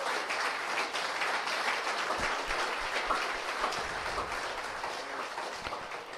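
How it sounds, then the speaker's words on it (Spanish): A church congregation at a Cancún house of prayer claps steadily, a dense, sustained wash of applause from many hands throughout. "¿Cuántos le dan un aplauso al Señor por esto?"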